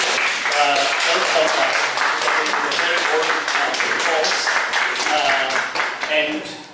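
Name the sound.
audience applause at a symposium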